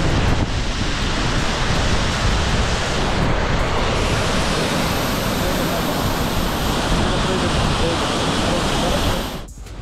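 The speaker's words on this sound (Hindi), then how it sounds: "यहाँ पे पानी का शोर बहुत ज़्यादा है। ये है द्रंग वाटरफॉल" Roaring water of Drung waterfall in Kashmir, a loud, dense, continuous rush of falling water with wind buffeting the microphone, steady throughout and cutting off abruptly at the end.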